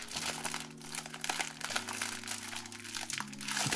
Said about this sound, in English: Right, get the cellophane off.